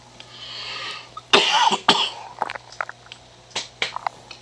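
Several sharp coughs, the first two loudest, followed by a few smaller throat-clearing hacks, close to the listener in a quiet room with a low steady hum.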